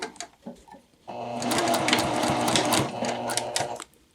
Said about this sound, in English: I'm going to stitch my way down on a number 2 stitch